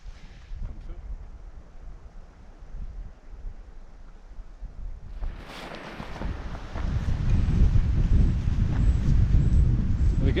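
Wind blows across open upland ground in the Lammermuir Hills, faint and low at first, then rising to a louder rough rushing buffet of the microphone in the second half.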